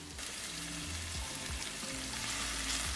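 Onions sizzle and fry in hot oil in a pan on a stove, a steady close crackling hiss with occasional soft stirring clunks.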